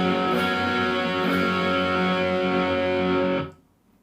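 Marshall Studio amplifier on its lead channel, every control at noon, output master on 2, gives a fizzy, heavily distorted electric guitar tone with little note definition, sustained loud and steady before cutting off abruptly near the end.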